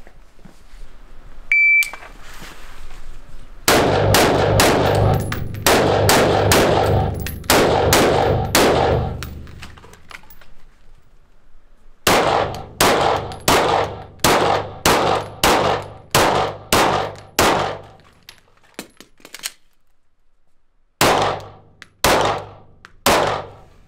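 Rapid bursts of video game gunfire crackle in repeated volleys, loud and close, with short pauses between strings of shots and a longer gap before the final few bursts.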